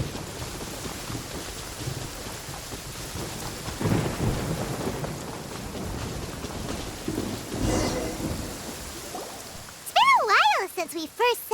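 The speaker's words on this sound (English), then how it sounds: "Taking a stroll in the middle of a downpour certainly rouses the spirit." Steady rain and rolling thunder in Genshin Impact, a constant hiss of downpour with low rumbles swelling around the middle, then a voice breaks in near the end over the rain.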